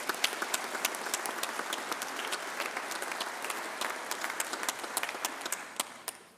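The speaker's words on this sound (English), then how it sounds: "Let's give them a round of applause" Crowd applause at a Grand Lodge of Texas Masonic gathering, steady dense clapping from a large audience for the full stretch, easing slightly toward the end.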